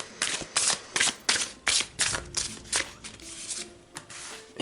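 A deck of tarot-style reading cards is shuffled by hand in a series of crisp, rhythmic riffling bursts, close and clear, about eight strokes that soften and slow toward the end.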